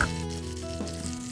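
Asafoetida and curry leaves hiss and sizzle in hot oil for a Telugu jowar rava pongali tempering, a steady close crackle with no talk over it.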